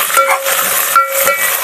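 Onions and fresh mint fry in a pan for festive bagara rice, giving a loud, close, crackling sizzle broken by stirring scrapes and a faint steady whistle. No one speaks.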